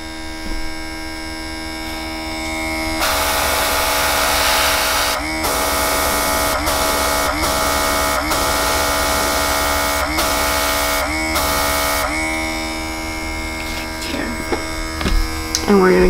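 A nail-gel airbrush system runs in steady bursts of hissing compressor airflow, stopping and starting several times over a constant mains-like hum, loud and close, while a voice talks quietly at the start and end.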